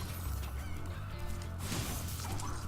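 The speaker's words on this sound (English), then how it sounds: "You leave those chickens alone." Chickens clucking in the Spyro Reignited Trilogy video game, in the Static Marsh level, heard as steady game audio with a low hum and music beneath, with a brief crash near the middle.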